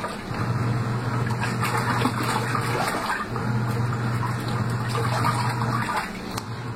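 Water churning and sloshing inside a washing machine as clothes are washed, a steady gushing swish with a low motor hum that pauses briefly midway and then resumes.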